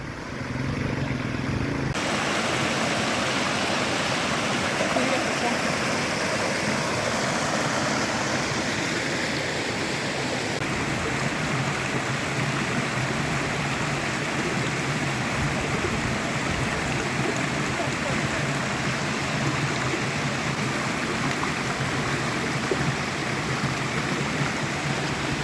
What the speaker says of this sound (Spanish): Seguramente escucharon el ruido del agua.